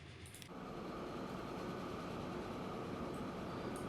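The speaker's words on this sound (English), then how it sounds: "There's the steel train." A steady low rumble and rattle of a passing freight train in a video game fills the clip after a brief quieter start, continuous and fairly close.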